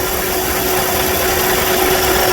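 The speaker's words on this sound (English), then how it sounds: "It looks like the compressor is not stopping like it was stopping the other time." A car's AC compressor runs with its clutch engaged and not cycling off. It makes a steady, unbroken mechanical hum with a faint whine over engine idle, close and constant throughout.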